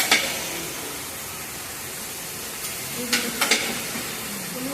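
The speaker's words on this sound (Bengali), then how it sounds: "মশলা দিয়ে কষিয়ে দেওয়া হবে" Spices sizzle in a pan as they are stir-fried, a steady close hiss of frying with a few sharp clatters and scrapes of the spoon breaking through.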